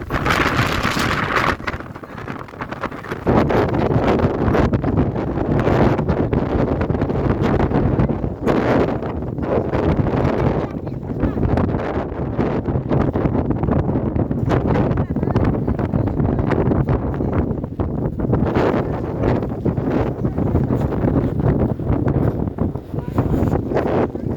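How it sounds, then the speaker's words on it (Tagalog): Strong, steady wind in New Zealand buffets the microphone with a loud, broadband roar throughout, and people talk faintly underneath. "Lakas ang hangin"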